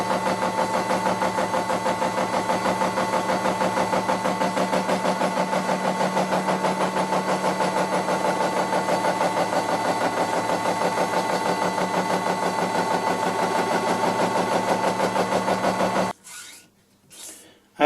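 Metal lathe spindle running on freshly readjusted bearings, a loud steady mechanical hum with fine rhythmic whirring for about sixteen seconds before it cuts off and a few faint knocks follow.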